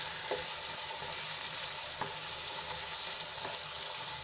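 Two small chopped tomatoes fry in hot oil for a ridge gourd curry, a soft continuous sizzle broken by a few light stirring clicks, with no voices.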